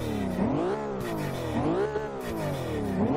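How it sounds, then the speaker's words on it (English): A tuned Infiniti Q60 concept car in the Forza 6 racing game, its turbocharged engine revving up and down in repeated sweeping surges, loud and close with a whirring whine, no talk. "You hear that turbo?"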